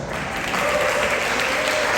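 A church congregation claps loudly together during a Spanish-language sermon, a dense, close burst of applause that fills the whole moment.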